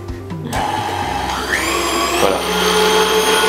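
A food processor whirs as it blends almond paste for a gluten-free strawberry tart, its motor starting up and settling into a loud, steady high-pitched hum.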